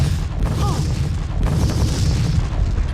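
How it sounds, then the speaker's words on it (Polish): A deep, rumbling explosion at the Citadel in Half-Life 2: Episode One booms continuously, with heavy low-end roar and crackling debris throughout. "To cytadela coś wybucha, widzicie?"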